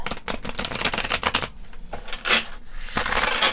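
A tarot card deck is shuffled in quick riffling bursts, crisp rapid flutters close up with short pauses between passes, no voices.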